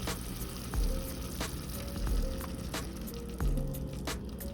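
Liquid poured into a hot pan while making butternut squash soup, giving a continuous close sizzle and frying hiss with a few soft bursts as it hits the heat.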